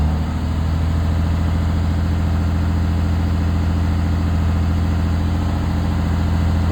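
A school bus diesel engine idles steadily after starting, a loud, low, even rumble with constant vibration and no pauses, heard alone without talk.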